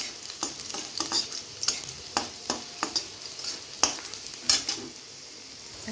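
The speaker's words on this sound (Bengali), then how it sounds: "একটু ভেজে নিব।" Chopped garlic fries in hot oil before mutton goes in, a close crackling sizzle punctuated by a rhythmic series of sharp metallic spatula strikes against the pan, roughly one every half second.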